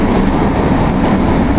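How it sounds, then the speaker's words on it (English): A train passes through Hitchin station, a steady, loud rumble of rolling wheels and carriages that holds at the same level throughout with no voices. "Oh, we've got another train coming."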